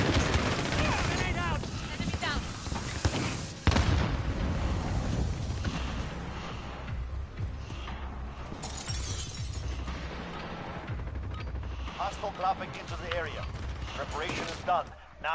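Repeated shotgun blasts in a multiplayer shooter video game, loud sharp bursts spread across a busy firefight with other gunfire and explosions, while players talk over the action throughout.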